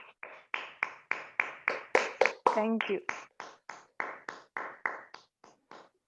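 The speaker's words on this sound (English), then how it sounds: "how do we give an applause to our speaker and evaluator?" Applause at a Toastmasters club meeting for a speaker and evaluator comes as a steady, evenly spaced series of close, crisp claps in unison, with a brief spoken voice in the middle.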